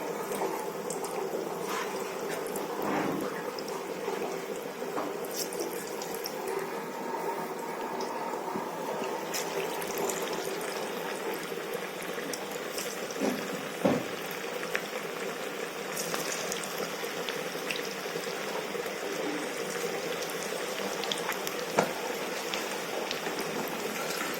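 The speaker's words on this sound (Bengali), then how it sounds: "তেল গরম হয়ে গেছে বড়াগুলো ছেড়ে দিচ্ছি" Drumstick leaf fritters fry in hot oil, giving a steady, even crackling sizzle that runs throughout with scattered small pops, moderately close and with no voices.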